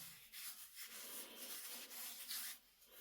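Floury hands rubbing together close up, working flour into the skin before kneading bannock dough at a wild camp, with soft, steady, rasping strokes and no talking.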